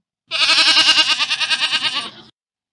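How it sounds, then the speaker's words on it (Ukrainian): A single goat bleats once, a loud, close, wavering cry lasting about two seconds with a trembling vibrato before cutting off. "Сім'я кіз, тато цап, мама коза, дитинча козеня."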